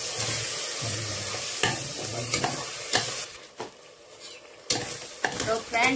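Masala with turmeric frying for a mutton curry, loud close sizzling broken by repeated spoon scrapes and pan knocks, the frying hiss fading briefly midway before surging back.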